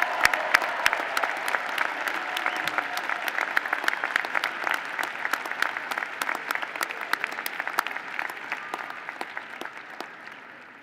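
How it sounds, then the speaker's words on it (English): Dense, sustained applause from a large commencement audience at the Virginia Tech Fall 2016 graduate ceremony, honoring master's student recipients, with sharp individual claps over a steady roar that slowly tapers. "And now a round of applause for our master's student recipients."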